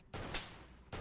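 Two bursts of submachine-gun fire in The Xcom Files, a loud rapid volley of about a second with a brief gap before a second burst begins, with no talking over it.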